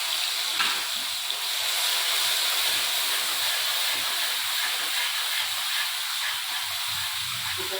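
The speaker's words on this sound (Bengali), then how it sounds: "এটা একটু লাল লাল করে ভাজবো।" Chopped onion and green chili frying in hot oil, a constant hissing sizzle, even and unbroken, with no talking.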